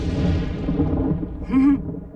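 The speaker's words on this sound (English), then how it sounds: "I'm counting until the thunder..." Thunder from an approaching storm in an animated Transformers scene rolls as a low, deep rumble that swells briefly toward the end.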